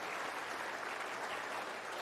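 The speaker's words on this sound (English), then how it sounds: "As you hear the applause from the Crucible" Snooker crowd at the Crucible during the World Championship final applauds in a steady, even wash of clapping from many hands, heard slightly distant with no speech.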